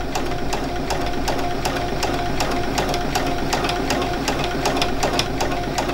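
A sewing machine runs a cable stitch with thick thread in the bobbin, its needle tapping in a fast, even rhythm over a steady motor hum, close and loud.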